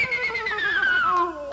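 A horse gives a single drawn-out whinny that slides downward in pitch, loud and close, heard alone in an old comedy radio show.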